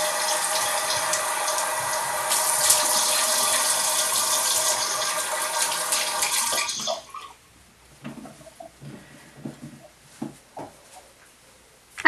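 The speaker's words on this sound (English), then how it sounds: "Then rinse it off." Running tap water rinses an exfoliating scrub off skin, a steady close rush for about seven seconds that then stops, leaving quiet with a few small drips and taps.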